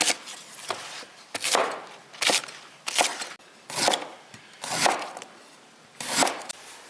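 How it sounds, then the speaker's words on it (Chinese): A knife chopping scallion and ginger on a board: seven crisp, close chops in a steady, unhurried rhythm, each a sharp knock with a short ring, and quiet gaps between strikes. "切点葱姜放进去"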